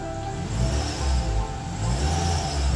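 A car engine revving steadily and fairly loud and close, with a faint odd noise that shows up only under revs, heard alone with no talk.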